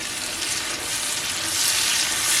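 Onions sautéing for imam bayildi stuffed eggplant, a steady dense sizzle filling the pan with a faint scrape of stirring underneath, loud and continuous with no voices.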